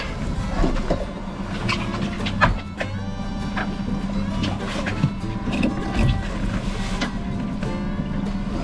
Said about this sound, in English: There's a boat coming right at me.